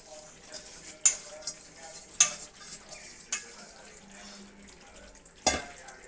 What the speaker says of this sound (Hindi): अब इसमें जो ये मेथी हमने घी में भिगो के रखी थी, ये मेथी डाल देंगे।